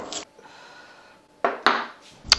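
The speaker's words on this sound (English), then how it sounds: "now we need to peel and crush the garlic" Garlic being peeled and crushed for a Goan fish curry: a short scraping rub, then a quiet pause, then several sharp, close crunching knocks on a board, the last one abrupt.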